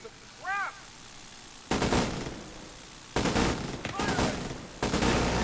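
Gunfire in the video game The Division 2: several bursts of rapid automatic fire, each lasting about a second, separated by short gaps, with a voice briefly heard beforehand.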